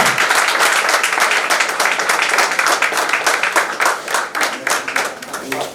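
Audience at an award ceremony breaking into loud, dense applause, many hands clapping close by with rhythmic bursts that thin out and grow uneven toward the end.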